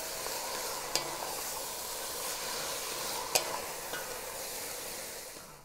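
Diced mirlitons stirred into softened seasonings in a pot give a faint, steady sizzle, with a couple of sharp clinks of the spoon against the pot.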